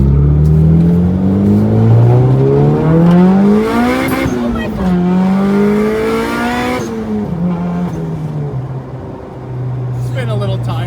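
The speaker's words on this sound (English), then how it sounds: "Spin a little tire for you" A turbo Honda Civic on an empty rural road revs hard as its tires spin, the engine note climbing and wavering through the rev range with squealing rubber, then easing off, a voice briefly heard near the end.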